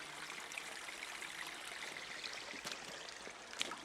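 A clear woodland stream flows steadily in the Quantock Hills on a hot summer day, a soft, continuous trickle and gurgle at low volume with a few brief splashy accents, no voices.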